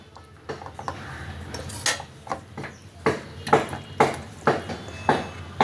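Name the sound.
cooking pot taken off the gas stove after adding ghee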